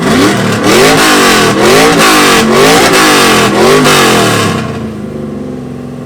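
A 1999 F-body car's engine revs hard in repeated rising and falling blips at an exhaust competition, loud and close with a deep, rumbling exhaust tone, then drops back to a lower idle near the end.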